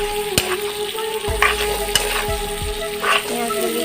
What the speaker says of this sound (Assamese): এতিয়া এনেধৰণে ভাজি থাকি পিঁয়াজখিনি গলা লাগে